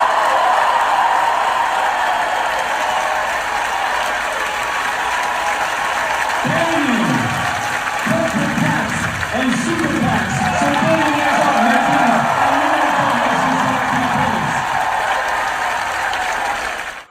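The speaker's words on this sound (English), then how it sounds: "his own community members standing up, cheering and applauding for his direct opposition" A crowd cheering and applauding at a political rally in Ken Paxton's home county in Texas, a dense steady roar of claps and cheers throughout with speech over it.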